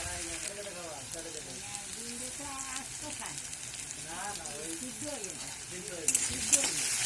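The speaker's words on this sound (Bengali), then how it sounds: "আলুটা একটু কষিয়ে নেব, লাল লাল করে একটু ভেজে নেব।" Potato pieces frying and stirred in a pan for a light aloo jhinge posto, with a steady sizzle and scraping stir strokes throughout, a voice speaking over it at moderate level.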